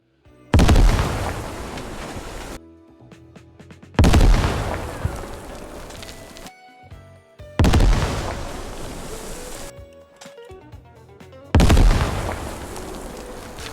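Four loud, deep C4 explosions in a video game go off in sequence, each a sharp blast rolling into a long rumbling decay, separated by brief quieter gaps of game sound.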